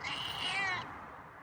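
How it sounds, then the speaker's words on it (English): A single drawn-out meow from a nearby feral cat awaiting feeding, rising and then cutting off, followed by quiet. "Got some meows for me, huh?"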